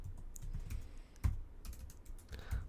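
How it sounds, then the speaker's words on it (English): Computer keyboard keys clatter in quick, irregular bursts, with a few louder thumps standing out. The typing is close and plainly audible, and no one speaks. "I have to manually type this out."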